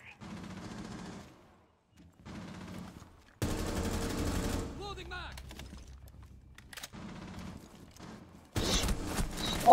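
Gunfire in a first-person shooter video game, coming in several loud bursts of rapid shots separated by quieter gaps, with a player's voice heard between them.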